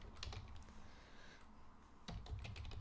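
Quiet typing on a cheap, fairly soft-sounding computer keyboard, with irregular clusters of light key clicks separated by a short pause, heard alone against a low background hum.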